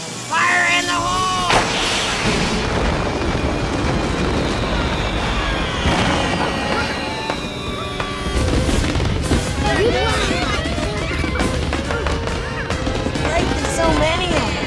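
Loud, dense bursts of fireworks bangs and booms crackle through the whole stretch at a lake, with whistling streaks and voices talking and exclaiming underneath.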